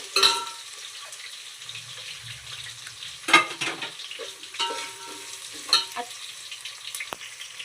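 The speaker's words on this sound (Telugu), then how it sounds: "ఈ క్యారెట్ ముక్కలు ఇందులో వేసేసుకోవాలి. వేసేసుకొని ఇలా కలిపేసుకోవాలి." Carrot pieces being stirred in a frying pan for veg pulao, with a soft sizzle and a few sharp scrapes and clinks of a utensil against the pan.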